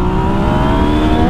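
A new motorcycle revs hard in second gear, its engine a loud, close, steady drone with a slowly rising pitch across the short stretch.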